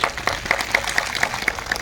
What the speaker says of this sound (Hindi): जोरदार तालियां पहले आप अपने लिए बजाइए।